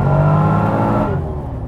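A Subaru BRZ swapped to an LS3 V8 accelerates hard in second gear with traction control off, its loud, deep engine roar rising close by and then easing slightly toward the end.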